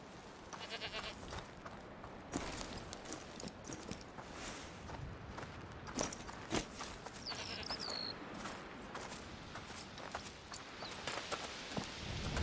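Horses' hooves clip-clop steadily on the ground in the video game A Plague Tale: Requiem, mixed with goat and sheep bleats and outdoor ambience, moderately faint and continuous.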